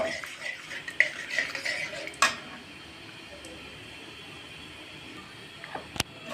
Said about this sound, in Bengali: দারচিনি দিয়ে দিব তেলে।